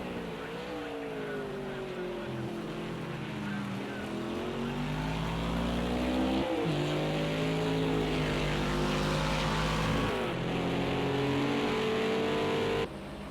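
Race cars in a sim racing game during a 4-hour endurance race at Imola drone steadily with engine pitches rising and falling through gear shifts, a continuous layered roar of several cars with no talk.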